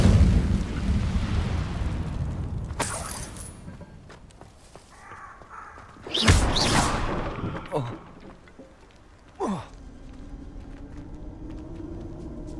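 Incendio fire spell cast in the Hogwarts Legacy video game, a loud whooshing burst of flame with crackling bangs, set among scattered game effects and rumbling background sounds, with another spell flaring up shortly after.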